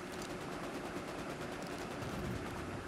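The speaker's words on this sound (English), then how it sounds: "the gunshot's coming from there" Gunshots in a shooter video game come as a dense, steady stream of rapid fire, held at an even, moderate level for the whole clip with no talking.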